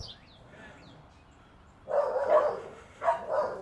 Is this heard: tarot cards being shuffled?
no